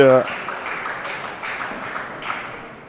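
Audience applause at a French table tennis championship match, a short burst of scattered clapping that fades under a commentator's continuous talking.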